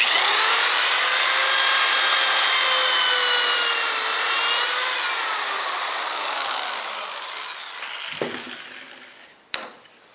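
A drill whines at high speed while boring a pocket hole in wood with a Kreg K2 jig: a loud, steady close-up whir that slowly drops in pitch as the bit loads, then stops with a couple of clicks.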